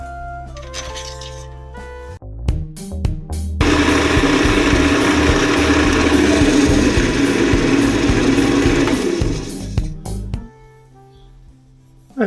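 A pen blank spins on a lathe mandrel, a steady whirring drone that starts after a few clicks and clatters, holds for about six seconds, then winds down to a quiet hum.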